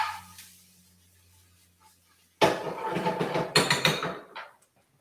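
Stirring stuffed cabbage in a pot with chili soy, heard as a burst of loud clattering scrapes and knocks against the pot for a couple of seconds after a quiet start, no talking.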